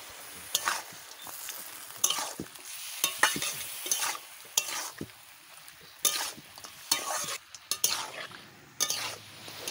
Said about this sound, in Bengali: আর আমার ছেলে আজকে নাড়াচ্ছে